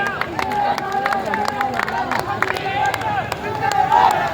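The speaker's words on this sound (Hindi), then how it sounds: "तालियों के साथ में आप स्वागत करें" Audience clapping at a large community gathering in Kherli, Alwar district, Rajasthan, a dense ongoing patter of many hands mixed with crowd babble and a voice speaking over it.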